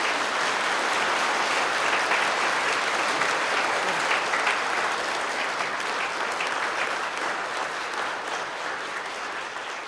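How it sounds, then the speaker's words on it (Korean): Church congregation applauding at a pastor's installation service: steady, dense clapping from many hands that fills the whole ten seconds, tapering slightly toward the end, with no talking over it. "우리 인사하실 때 큰 박수로 환영해 주시기 바랍니다."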